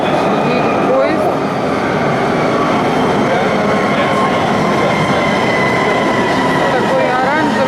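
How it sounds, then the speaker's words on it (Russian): A metro train pulls into a station in Istanbul, with a dense, continuous rumble of wheels and rails and a steady, loud roar throughout, plus faint high squeals. "Поезд."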